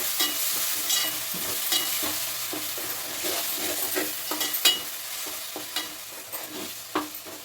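Steady sizzling and crackling of tomato curry with chili powder frying in a pan, with repeated clinks and scrapes of stirring scattered throughout.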